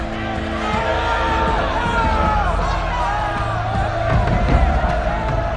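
Theatre crowd of ancient Rome in uproar, a dense continuous roar of many voices with whoops, yells and shouting rising and falling, loud and close, with no distinct clapping standing out.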